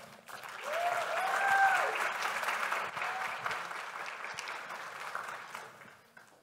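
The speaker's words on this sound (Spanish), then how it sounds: "recibamos también con un fuerte aplauso al Demar Moreno" An audience applauds at a business excellence awards ceremony, sustained clapping that swells and then slowly fades, with a brief whistle-like tone near the start.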